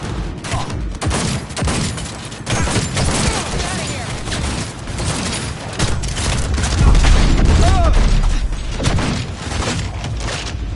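Heavy gunfire in a Cyberpunk 2077 firefight against a helicopter: sustained loud bursts of automatic fire with booming impacts, rising to a dense peak midway, with voices shouting among the shots.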